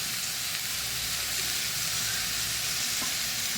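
A pot of Mangalorean okra (ladies finger) saaru gives a steady, even sizzle and bubbling hiss as it is stirred, with a faint scrape of the spoon near the end.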